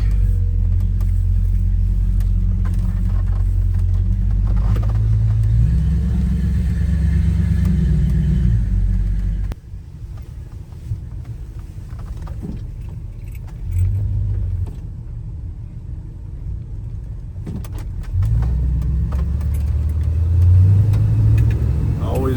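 A 1968 Ford F-100 Ranger pickup with a 390 four-barrel V8 and C6 automatic drives along, its deep engine rumble loud and close, dropping briefly as it shifts and swelling again under acceleration.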